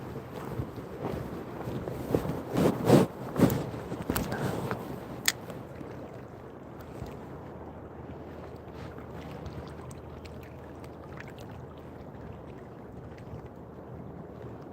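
Gusty wind buffets the microphone outdoors on a fishing outing in Oklahoma, a broad rumbling roar that swells in strong gusts over the first few seconds and then settles into a steadier, softer blow.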